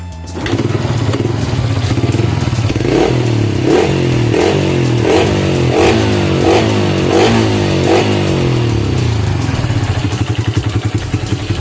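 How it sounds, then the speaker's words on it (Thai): A Honda Wave 110i motorcycle engine with a stripped thread, running at close range and revved in a series of regular throttle blips that rise and fall over a steady idle, with no talk. "เวลาเบิ้ลแล้วควันออก ตามคันเร่งครับ"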